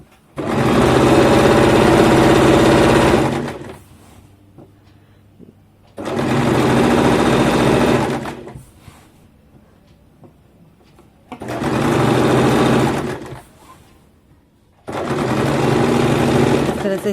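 An electric sewing machine stitches the seat seam of an Afghani salwar, running loud and close in four steady bursts of a few seconds each, with quiet pauses between them.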